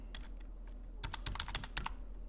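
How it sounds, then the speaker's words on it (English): Finger typing on a computer keyboard, a quick irregular run of close, crisp key clicks that grows busier after a short pause, with no voices. "Sorry about those typos. I'm a finger typer."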